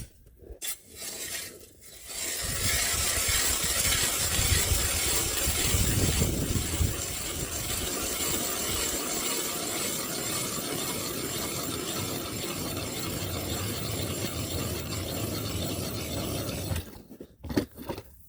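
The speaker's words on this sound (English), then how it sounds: "I'm gonna go ahead and drill my hole now." A hand-turned ice auger bores a fishing hole through lake ice on Williston Lake, producing a continuous scraping, grinding rasp that runs steadily for about fifteen seconds before stopping, with a few knocks at the start and end.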